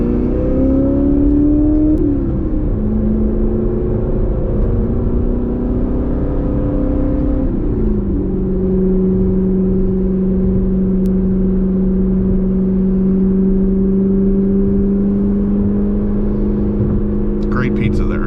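A C7 Corvette ZR1 on a drive pulls hard from inside the cabin with a loud, steady engine drone that climbs through the gears, dipping briefly at each shift.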